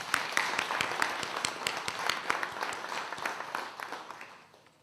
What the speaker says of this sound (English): I want us to clap our hands for your organization